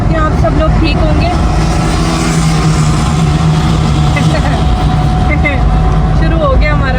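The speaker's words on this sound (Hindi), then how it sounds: "इतना शोर है, जहाँ कैमरा पकड़ो वहाँ साइड से या बाइक या बस" Loud, steady street traffic with motorbikes and buses passing close by: a constant engine roar with rising and falling whines and occasional horn-like tones, someone talking throughout.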